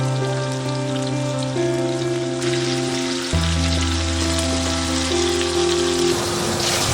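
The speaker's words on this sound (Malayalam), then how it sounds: "നാടൻ കുഞ്ഞൻ മത്തി ഇങ്ങനെ പൊരിക്കുകയാണ് നമ്മള്" Small sardines fry in hot coconut oil with curry leaves, giving a steady, dense sizzle that stays loud and continuous throughout, close by, with steady tones in the background and no voices.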